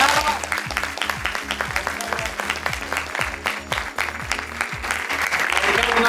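A post-screening audience at a film meeting breaks into dense, sustained applause that stays loud and steady from start to finish, filling the room close up with a rhythmic low thump running beneath the clapping.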